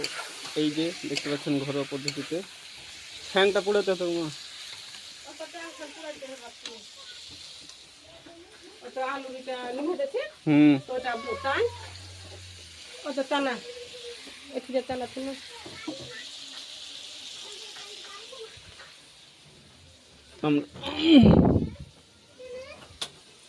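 Meat being stir-fried for kosha in a pan, giving a steady sizzle with occasional stirring scrapes under intermittent talking.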